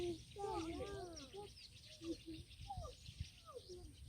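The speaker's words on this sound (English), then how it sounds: "there are so many birds, you can hear them." Several birds whistle and chirp nearby in quick varied calls in Lake Nakuru National Park, Kenya, faint and outdoors, with some soft background rustle.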